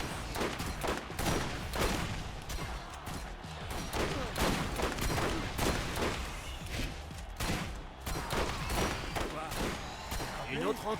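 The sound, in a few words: gunfire in the video game Borderlands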